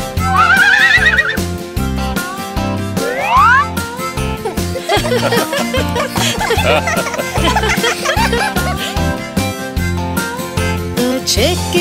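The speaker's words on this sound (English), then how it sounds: "Look! It's a real horse! The pretty old horse says nay," A horse whinnies on a farm in a children's tractor nursery rhyme, with short neighing calls near the start over a bouncy, loud musical backing.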